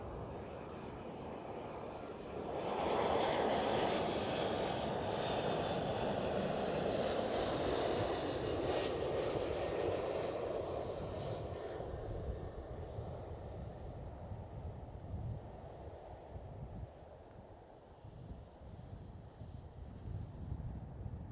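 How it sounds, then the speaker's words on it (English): A Delta Airlines Airbus A330 lands at Amsterdam Schiphol, its engine roar swelling loud after a few seconds, holding as a broad rushing drone, then fading gradually under wind buffeting on the microphone. "This is Delta Airlines A330."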